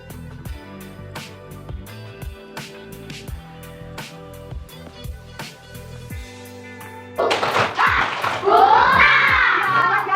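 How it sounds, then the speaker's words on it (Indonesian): A class of second-grade children clap their hands in a primary-school lesson. Talk and scattered taps come first, then a loud, dense burst of group clapping mixed with children's shouts fills the last few seconds. "Coba tepuk tangan."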